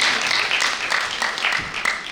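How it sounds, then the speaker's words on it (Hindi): Audience at a Hindi poetry gathering (kavi sammelan) in New Delhi clapping for a poet, steady moderate applause throughout, a little distant and without talk. "एक बार जोरदार तालियों से राजेश अग्रवाल जी के"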